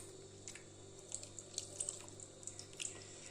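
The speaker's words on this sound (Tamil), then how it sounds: "நான் கொஞ்சம் மிக்சியில் தண்ணி ஊற்றி கழுவிக்கிறேங்க." Water running into a kitchen mixer grinder jar to rinse it, a steady faint trickle with small splashes and drips against a low hum, no voices.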